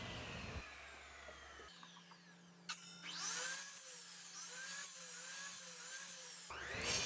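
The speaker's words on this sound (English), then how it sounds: "I'm using my miter saw to just remove the ledge and keep on paring and paring it down until that ledge is gone" Miter saw cutting down wooden nunchucks, a whining motor with a series of short, rising-and-falling cutting bursts into the wood, fairly quiet and close, starting and stopping abruptly.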